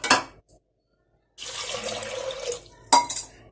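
Chickpeas being washed in water in a home kitchen, a short splash, then a second of silence followed by steady running and sloshing water and a final burst of clinking splashes.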